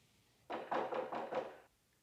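Someone raps on a front door several times in quick succession, a muffled series of dull knocks heard clearly without any talk.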